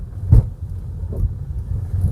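A car travelling along a forest road in rain toward a village, its low rumbling engine steady and close, with a couple of heavier thumps as it rolls over the uneven surface; no voices.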